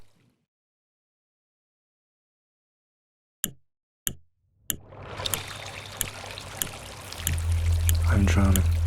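Water trickles and pours after near-silence broken by a few sharp clicks, the flow building steadily louder with a low rumble underneath by the end.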